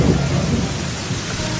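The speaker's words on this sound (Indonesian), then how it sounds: "Hujannya gede banget soalnya." Heavy rain pours down in a steady roar while deep thunder rumbles underneath at the start, dense and loud throughout, with no voices.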